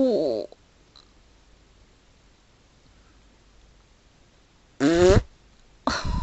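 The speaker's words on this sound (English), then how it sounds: "Oh, that was a fart," Two loud, close flatulent blasts, the first cut off at the start and the second a rumbling, pitch-wavering release with a short tail after it, separated by quiet room noise.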